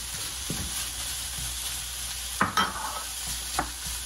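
Poutine tarte flambée ingredients sautéing in a pan, a soft steady sizzle with a few sharp utensil scrapes and knocks near the end, close but quiet.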